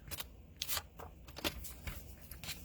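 Scissors slicing through Stampin' Up! Hydrangea Hill patterned paper, a few quick separate snips spread over a couple of seconds, close and fairly quiet, with no talking.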